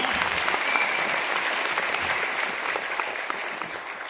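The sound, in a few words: audience applause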